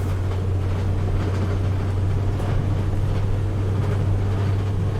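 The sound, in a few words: Dodge Sprinter van engine at full throttle uphill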